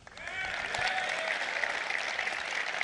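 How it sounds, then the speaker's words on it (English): Tepid audience applause at a political speech, a fairly faint, even patter of clapping that swells in over the first half-second, then holds steady, with some speech-like sound faintly mixed into it. "It's pretty tepid applause there."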